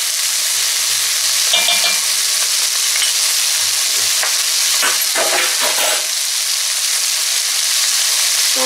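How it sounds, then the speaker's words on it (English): Garlic frying on high heat in a chili pot, a loud continuous sizzle with scraping stirring strokes against the bottom of the pot, close up and with no voices. "Keep stirring. Still on high heat. Scrape up any of the brown bits from the bottom of the pot."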